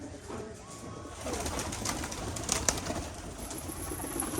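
Pigeons coo softly amid a busy outdoor backdrop of steady broadband noise, with a few brief louder sounds near the middle and no voices.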